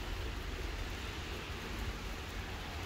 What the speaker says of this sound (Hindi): ये देखें कैसे बारिश हो रही है।